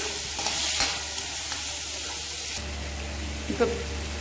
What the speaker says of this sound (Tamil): சேர்த்து இதையும் நல்லா குக் பண்ணிக்கோங்க. இது இந்த ஹீட்லேயே நல்லா கரைஞ்சிடும்.